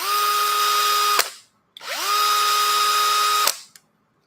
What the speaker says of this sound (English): This is the 20 volt drill on setting 2 on, drill position.